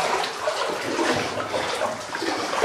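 Sloshing and splashing of feet wading through cold, shallow water inside an old mine tunnel, a continuous close watery churn with no talk.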